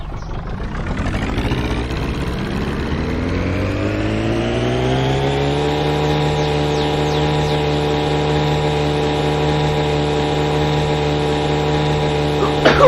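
A car engine in the driving game My Summer Car revs up when the throttle is pressed. The pitch climbs over the first few seconds and then holds at a steady, loud, high drone. There is no talking.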